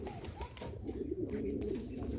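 A Bombay pigeon perched in a loft gives a drawn-out, rolling coo, close and moderately loud against a quiet background.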